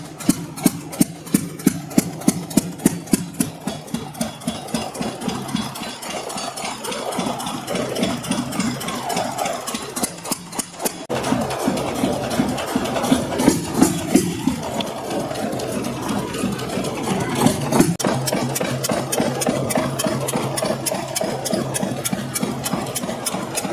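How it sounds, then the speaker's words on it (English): A 1975 SABB G-Type marine engine runs steadily close by, its regular thumping beat loud and continuous, with a brief shift in rhythm midway before settling back. "SABB engines, like as this 1975 G-Type, were valued for their dependability in maritime applications and their simplicity"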